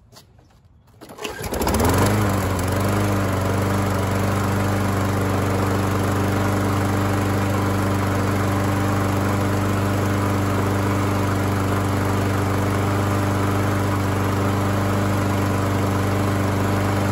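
A Briggs & Stratton Quantum lawn mower engine fires up after a brief pause and then runs loud and steady at half throttle, a constant droning rumble with no talking.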